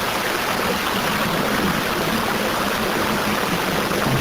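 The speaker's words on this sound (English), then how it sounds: "So there you go, you've got water flowing everywhere." Water rushing out of a storm drain, a steady, dense, broadband roar that stays even and loud throughout with no breaks or voices.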